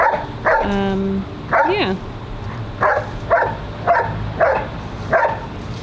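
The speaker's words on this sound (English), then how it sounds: "my dog is playing with a rock" A dog playing with a rock barks and yips in short bursts, about seven or eight close, loud barks, with one whining, whimpering call near the start. A person speaks briefly in the background.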